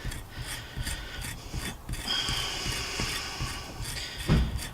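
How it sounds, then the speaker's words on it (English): An ESEE 6 knife blade scrapes and rasps along jute twine to fluff the fibres, giving a steady, close, gritty rubbing with short repeated strokes and no voices. "So that's the fibres all fluffed up, ready to take a spark."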